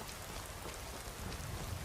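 Steady, even rainfall patters throughout in the Skyrim video game, a dense wash of drops with no break, fairly faint.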